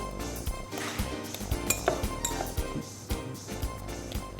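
Boiled eggs roughly mashed in a mixing bowl, a steady run of clinks and scrapes of utensil against the bowl, close and fairly busy, with no talk.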